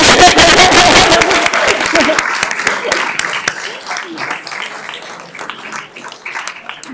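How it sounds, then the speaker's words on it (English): Audience applause at a town board meeting, honoring a coach's third state championship: dense clapping fills the room at first, then thins and fades to scattered claps over a low murmur. "Yeah, clap."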